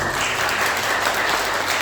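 Applause from a church congregation welcoming a visiting honeymoon couple, a dense steady clapping that fills the whole short stretch at full volume.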